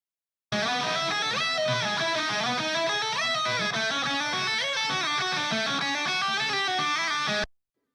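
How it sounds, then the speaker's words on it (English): An isolated, heavily distorted metal guitar line from a modern metal production plays a dense, sustained riff with bends and shifting notes, loud and continuous, then cuts off abruptly. "First, the guitar line."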